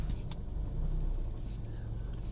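A car rolls slowly up a farmhouse driveway at night, a steady low engine rumble and tyre noise close by, with faint voices over it.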